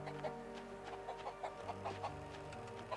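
A chicken clucks in short, soft bursts in the video game Tom the Postgirl, set against a quiet, steady musical drone with low tones shifting underneath.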